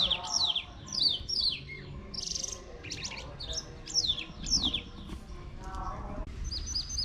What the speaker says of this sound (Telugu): ఇటు నుంచి ఏమో పిట్టల సౌండ్ చాలా ప్లెజెంట్గా ఉంది